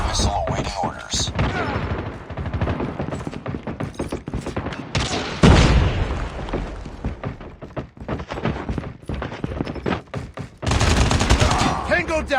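Rapid bursts of gunfire from the mobile shooter game Call of Duty Mobile during a ranked match, dense and loud with repeated volleys, a heavy thump near the middle and a harsh sustained burst toward the end, with brief game voice callouts mixed in.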